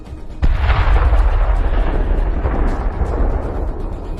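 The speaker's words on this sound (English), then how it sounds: "The Ukrainians are firing a final shot." A Ukrainian tank fires a shot at a Russian tank: one sudden heavy boom, followed by a long rumbling roar and echo that slowly fades, loud and close.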